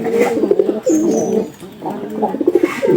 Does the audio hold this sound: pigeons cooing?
yes